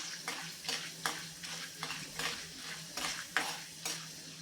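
Urad and chana dal roast with mustard seeds in a pan for bread upma, a quiet sizzle under regular scraping strokes of a spoon against the pan, about eight evenly spaced stirs.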